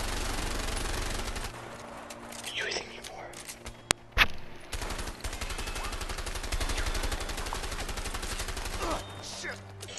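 Gunfire crackles in the A Way Out video game, with bursts of rapid shots and a sharp crack near the middle, while voices talk over the action.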